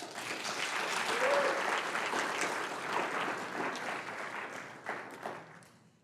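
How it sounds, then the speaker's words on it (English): A church congregation at a Sunday jubilee celebration gives a full round of applause, dense steady clapping heard from within the room that swells, holds, then tapers off toward the end. "Let's have another round of applause."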